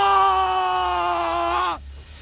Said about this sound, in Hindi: रॉजर दर्द से तड़प कर चीख उठा